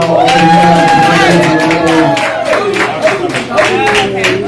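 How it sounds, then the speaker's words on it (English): A crowd at a community gathering claps and cheers loudly and continuously, with whoops and raised voices mixed into a dense, steady wall of applause. "Give a round of applause for Bernard."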